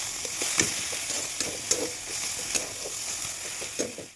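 Potatoes and greens seasoned with salt and turmeric fry in a pan with a soft, steady sizzle, while a spatula stirs them with light rhythmic scrapes and taps, close and without talk.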